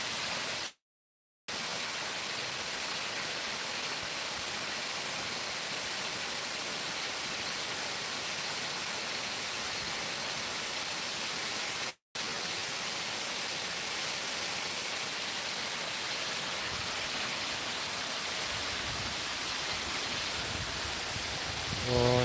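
The Aşıklar (Nebiler) Waterfall in Turkey roars as a dense, constant rush, loud and close, broken only by two brief moments of silence.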